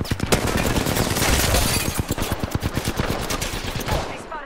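Rapid automatic gunfire in the video game Apex Legends, loud and close, with dense bursts giving way to a steady chattering stream of shots throughout.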